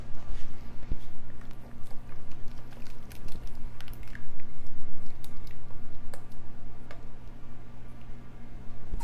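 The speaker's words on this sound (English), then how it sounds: "let's pour it in our pie crust." A thick quiche filling made with hamburger is poured into a pie crust, giving soft wet squishing and glopping sounds for about nine seconds, steady and close, with small clicks and taps over a low kitchen hum.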